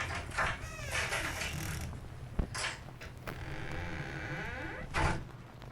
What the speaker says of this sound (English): we've opened the front door now. Maybe you heard the hinge squeak a little.